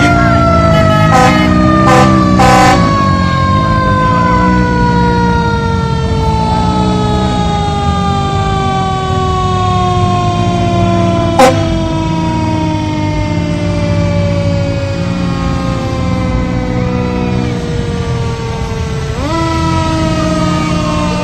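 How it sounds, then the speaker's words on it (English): A Bennington Volunteer Fire Department fire engine in a Christmas parade sounds its wailing siren continuously, the pitch rising and sweeping down in long glides, loud and close, with brief horn blasts near the start and a low engine rumble underneath. "make sure you use your sirens and lights"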